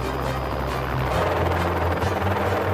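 A hired helicopter flies over a building project on Kawau in New Zealand, its rotor thump steady and fairly near for a few seconds.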